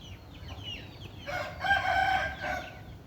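Soft clucking from nearby chickens, then one bird lets out a loud, drawn-out crowing call before settling.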